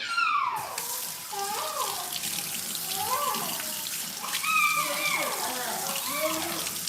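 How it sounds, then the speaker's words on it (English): Hands washed under a running kitchen tap while cooking: a continuous close rush of water with splashing, as a voice and other talk carry on over it. "Let me wash my hands again."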